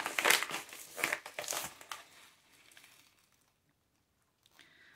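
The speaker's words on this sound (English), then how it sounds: "Still trying to get used to my box cutter here." Close crinkling and scraping as a book package is cut open with a box cutter and torn, a busy burst of rustles that fades to near silence.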